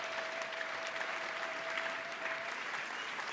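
A church congregation applauding together during a worship service, a dense, steady wash of clapping from many hands that holds at an even level throughout, with a faint held tone underneath for most of the stretch.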